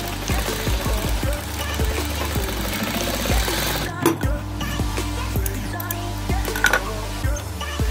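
A sewing machine stitches back and forth along a jeans seam to lock it, giving a steady rapid mechanical whir with regular needle clicks, close and continuous throughout.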